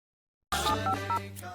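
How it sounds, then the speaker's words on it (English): Telephone dialing in The Sims 2, a quick run of electronic keypad tones that starts after a short silence and plays over a steady low musical drone. "She reached for the phone and called the only person she trusted, Dirk."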